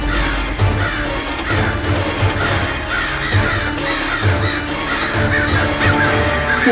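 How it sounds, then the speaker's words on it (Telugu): Crows caw over and over, harsh and close, as a sound effect in a Telugu historical TV drama, layered over a dense, rumbling bed of background music with no talk. "ఓరి భగవంతుడా కాకులు"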